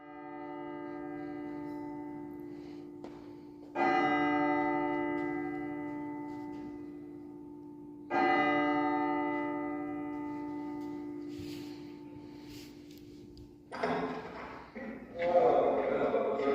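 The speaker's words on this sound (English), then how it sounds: "The holder of the State House Bell has summoned you" A large bell in a replica of Philadelphia's Independence Hall strikes twice, each loud stroke ringing out and decaying over several seconds, followed by a short burst of people talking nearby.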